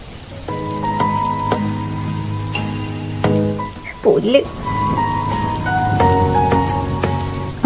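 Rain patters steadily on a surface beneath prominent melodic music, with a brief spoken voice partway through.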